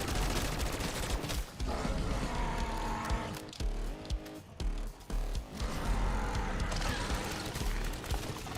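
Dense bursts of gunfire from Black Ops 6 Terminus zombies mode, rapid shots rattling almost continuously with brief gaps, loud and close in the game mix.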